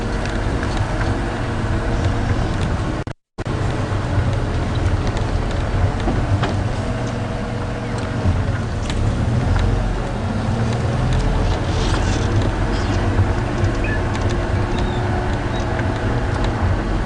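A safari game drive vehicle rolls alongside a buffalo herd at Djuma Game Reserve, giving a steady, loud engine drone and rumble with wind buffeting, continuous for the whole stretch apart from one very brief dropout.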